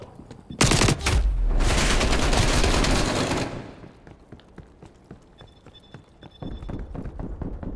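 Rapid pistol fire in the shooter game Call of Duty: Black Ops Cold War, a loud dense burst of shots lasting about three seconds, then quieter scattered game sounds and a few softer clicks.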